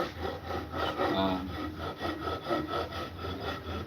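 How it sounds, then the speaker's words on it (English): A bevelling tool cuts a uniform bevel on a tube, giving a steady rasping, rubbing scrape in quick repeated strokes, close and moderately loud with no talk. "What this is going to let me do is put a nice little bevel, a uniform bevel"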